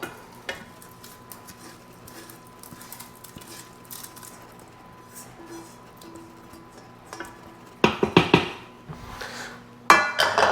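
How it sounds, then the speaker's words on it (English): Sauteed vegetables tipped into an Instant Pot for barbacoa, with a quiet stretch of faint kitchen clinks, then loud clattering scrapes and thuds of food and a utensil against the pot near the end. "We're gonna put all of our nice veggies that we sauteed"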